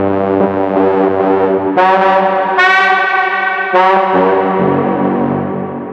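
A bright, distorted techno synth horn plays held chords that jump in pitch several times, loud and heavily processed with echoing effects.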